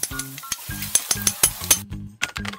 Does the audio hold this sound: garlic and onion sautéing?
yes